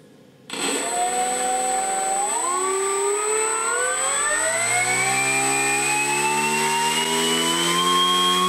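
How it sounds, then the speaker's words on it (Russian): An electric motor starts abruptly, then whines as its pitch climbs steadily while it spins up and keeps running, loud and close, with no talk. "Запускаем наш мотор."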